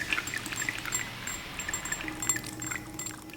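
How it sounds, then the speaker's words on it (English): Water poured into a beaker in the Beaker by THIX chemistry app, a soft steady trickle with faint glassy clinks, low and continuous throughout. "Let's add more water."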